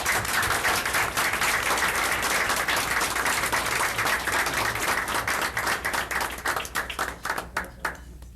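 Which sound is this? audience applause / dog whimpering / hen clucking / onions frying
audience applause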